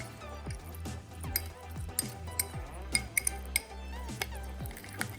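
Watermelon scoop salad being tossed with mint and coriander leaves, giving repeated light clinks and knocks of a utensil against a bowl in an uneven stirring rhythm, close and fairly soft with no talking.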